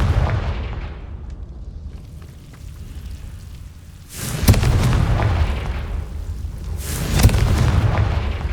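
Confringo fire spell explosions in the video game Hogwarts Legacy. Two loud booming blasts land a few seconds apart over a continuous rumbling, crackling background.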